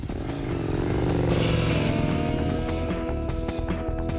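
An Aprilia RSV Mille sport motorcycle fitted with a one-off custom-made exhaust system runs loudly and close, its engine note rising and holding with a raspy, continuous roar.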